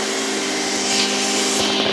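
A Hoover Windtunnel canister vacuum cleaner runs steadily and loudly nearby, giving a constant broadband whooshing roar with a faint whine and no pauses.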